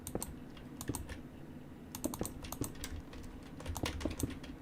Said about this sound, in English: See, you can hear the clicking of my mouse more frequently.